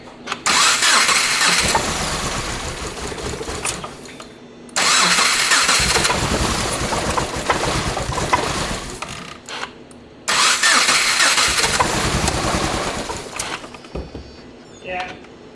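A Subaru Crosstrek engine with cylinders two and three misfiring cranks and catches three times, each loud rough burst running several seconds before dropping off, close by.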